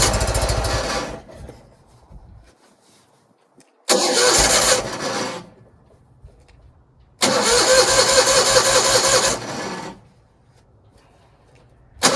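A Toro 616Z zero-turn mower engine, starved of fuel, cranks loudly in three separate bursts of about one to two and a half seconds each, with quiet pauses between them, failing to start.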